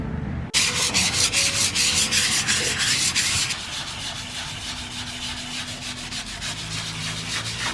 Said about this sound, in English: I'm gonna start sanding these down with some sandpaper that we had